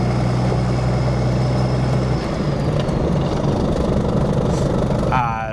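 A Cummins-swapped truck engine idles with a steady low diesel rumble up close, then falters and loses its steady throb as it begins to die, ending in a brief squeak.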